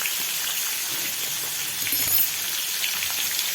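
Ginger, garlic and green chilli paste sizzles in a pan with onion, cumin, coriander, dried chilli and turmeric for a sea fish curry with potato and eggplant, a constant close hissing fry with no pauses.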